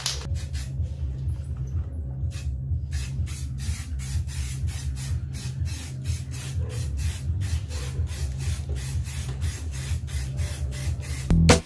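An aerosol can hisses in repeated short bursts and longer pulls, spraying white paint onto supermoto wheel rims close up, over a low steady background hum.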